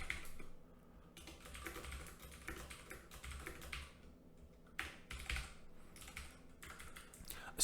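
Rapid computer keyboard typing while Haskell code is written, coming in dense bursts with short pauses, close and moderately loud, with no voice.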